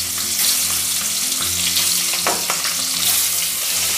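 Eggs fry in hot mustard oil in a wok, giving a loud, continuous sizzle with bursts of crackling and a sharp spatter midway.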